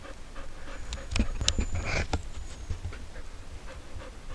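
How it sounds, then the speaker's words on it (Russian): A dog panting hard after a climb over rocky scree on a hillside near Beloretsk, Bashkortostan: quick, close, rhythmic breaths with a few sharper huffs, heard without talk. "Собачка у меня задохнулась."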